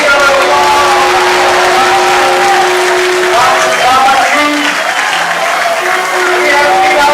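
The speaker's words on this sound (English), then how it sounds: "Hare Bol, big round of applause" A large audience at a Mahabharata musical drama by a Hare Krishna dance troupe keeps up loud, sustained applause with whoops and cheers, while voices talk and call out over the crowd.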